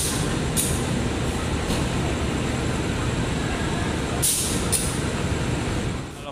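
A locomotive rolls up to couple onto the Serayu passenger train, giving a loud, steady rail rumble with a few short hissing air-brake bursts near the end.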